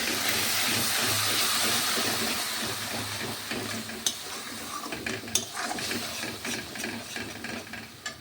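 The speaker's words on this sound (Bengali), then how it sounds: "এক সেকেন্ড দাঁড়াও, মশলাটা কষে গেলে আমি আসছি" Spice paste frying in oil for an egg dish, with a loud hissing sizzle that eases off over several seconds while occasional sharp clicks and scrapes of stirring come through.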